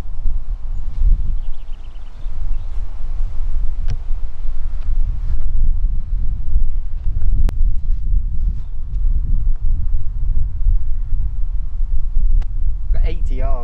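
Wind blowing across an open golf course, a steady low rumble of buffeting against the microphone through the whole stretch, loud and close, with faint rustling and a brief bird call near the end.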